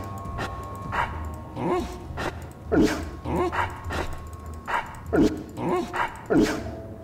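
Dog in the video game Dragon Age 2 barking and whimpering in a run of short, repeated yips and whines, fairly close, over a low background hum.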